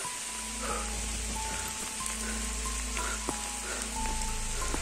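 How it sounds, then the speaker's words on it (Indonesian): Rain falls steadily during a night hike up Mount Salak via the Cidadap trail, a continuous close hiss with scattered drop taps, alone without talk. "Hujan perjalanan."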